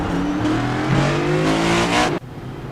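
A race car in a NextGen Series racing league event spins out after downshifting too early: a loud, sustained engine drone with shifting pitch and tire squeal cuts off abruptly near the end.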